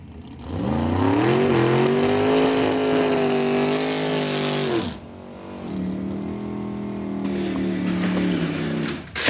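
Door cars at a drag race roll up to lanes one and two, their big engines rumbling loud and close with rising revs, a brief dip, then a second long steady growl.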